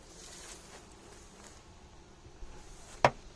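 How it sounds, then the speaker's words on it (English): A crowd of honeybees at an open beehive hums faintly and steadily, with a brief sharp knock near the end. "A lot of bees."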